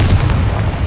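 Confringo blasting spell in Hogwarts Legacy, a single loud, deep booming blast heard up close and alone.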